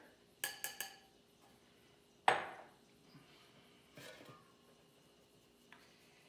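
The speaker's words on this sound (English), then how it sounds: "And then we're going to put it through a sifter." Spiced tempura flour being worked through a metal sifter in a kitchen: quiet, sparse metallic taps and clinks, a sharper scraping rattle, then faint rustling, with no talking.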